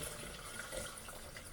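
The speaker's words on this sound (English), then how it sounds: "Now I'm going to pour water onto the immersion blender to get the chunks off the blender." Water poured over an immersion blender to rinse off chunks, a quiet, steady splashing trickle throughout.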